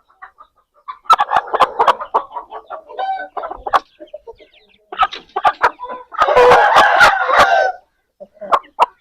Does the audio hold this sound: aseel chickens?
yes